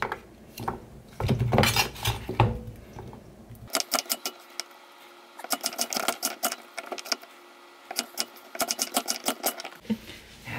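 A knife chops ingredients into thin square pieces on a board, fast runs of sharp close taps in quick rhythmic bursts separated by short pauses, with some clatter of utensils.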